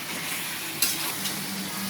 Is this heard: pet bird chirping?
no